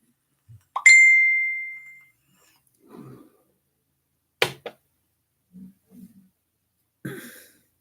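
A short phone text-message notification ding rings out once, clear and fairly close, with a ringing tail of about a second. Faint scattered noises follow, and no one speaks.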